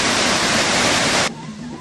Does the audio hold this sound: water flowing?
yes